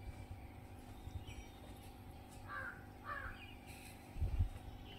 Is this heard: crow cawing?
yes